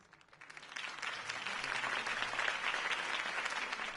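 In the Batman Live video game, a crowd breaks into steady applause that swells after a moment and continues at a moderate, slightly distant level.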